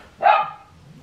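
A dog indoors gives one sharp, loud bark close by, then a short trailing tail of sound fading into the quiet room.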